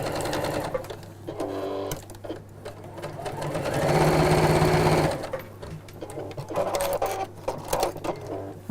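A sewing machine stitches all the way around the edge of a small project with small stitches, running in close, steady mechanical bursts with a long continuous whir in the middle, start-stop pauses and no talk.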